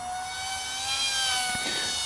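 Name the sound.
Esky Eyas RC airplane propeller motor at full throttle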